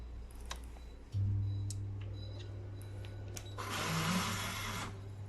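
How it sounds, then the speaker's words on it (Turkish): Takubo Motic E1000 lens edging machine running, a steady low motor hum with scattered faint ticks, then a louder hissing whir for about a second and a half near the end, close, no talk. "Makinamız Takubu Motic E1000 serisi."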